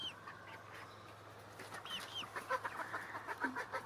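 Chickens cluck and squawk in a run of short, overlapping calls that grow busier and louder toward the end, close by over a steady low background hum.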